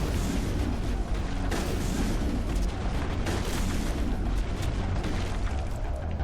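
Grenade blasts in Mass Effect rumble and boom loudly and continuously, with dense layered explosions and bursts filling the whole stretch.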